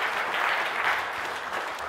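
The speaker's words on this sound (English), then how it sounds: "Should we give him a clap?" A church congregation gives a short round of applause after a sermon, a soft, even patter of clapping heard from a little distance.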